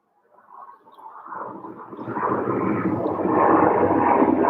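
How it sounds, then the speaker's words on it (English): An airplane roars overhead, its broad engine noise swelling steadily louder from quiet to a sustained rumble. "Airplane noise in the background."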